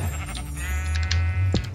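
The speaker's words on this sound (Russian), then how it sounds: "Просто там овцы, они сейчас сбежат" Sheep bleat in a Minecraft modpack, with a few wavering animal calls over a steady low background hum and game ambience, fairly close and moderately loud.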